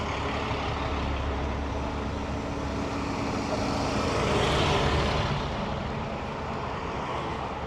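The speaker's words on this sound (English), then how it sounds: "It's a truck ahead of us, man." Engine rumble and road noise from a truck driving ahead on a road past construction, heard from an e-bike, a low steady roar that swells a little midway and then eases, with no talk.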